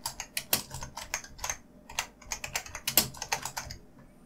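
A name is typed on a computer keyboard while setting up a learning map in Moodle, giving a steady run of close, crisp key clicks with slight pauses between words.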